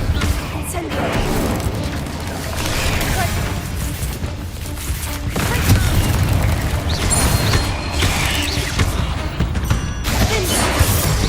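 An Incendio fire spell is cast during a combat encounter in Hogwarts Legacy, set amid a dense, continuous wash of booms, crashes and rumbling effects that stays loud throughout.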